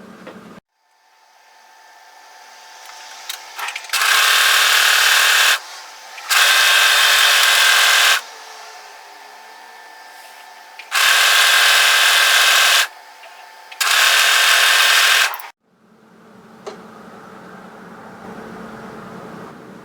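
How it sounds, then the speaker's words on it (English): An overlocker serger sews the long curved edge of a hoodie hood in four loud bursts of fast, whirring stitching, with short quiet pauses between runs and a fainter hum at the start and end. "first things first, we're going to serge overlock together this long curved edge"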